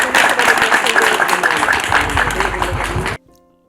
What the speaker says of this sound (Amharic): ሞቅ ያለ ጭብጨባ።